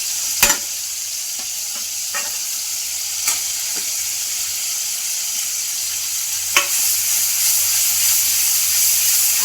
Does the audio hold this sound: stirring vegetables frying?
yes